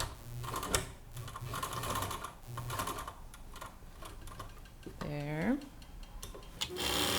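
A sewing machine stitching a tote bag, its fast mechanical chatter running in bursts close by, with a short spoken word and a brief rising whine partway through.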